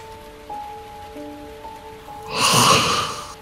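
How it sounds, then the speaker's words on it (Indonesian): Rain falling as a sound effect in a horror radio drama: a brief, loud hiss of rain swells in for about a second after a quiet, steady tonal drone. "dan benar saja ternyata hujan."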